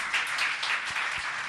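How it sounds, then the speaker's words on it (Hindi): A brief burst of audience applause at a religious discourse gathering, a soft, fairly distant patter of many hands clapping for just over a second. "जोरदार तालियां तो बजाइए।"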